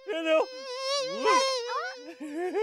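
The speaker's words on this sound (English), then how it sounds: "Oh, listen to the sound the mosquito makes." A cartoon mosquito whines in a thin, high, wavering buzz that rises and falls in short bursts, close by and alone.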